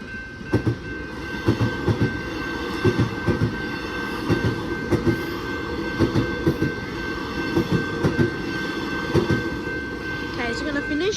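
A train rumbles past a level crossing at Ruthven Street and Chapman Road in Macleod, Victoria, with rhythmic clickety-clack wheel beats. A steady crossing bell tone rings above it, and a voice is faintly present.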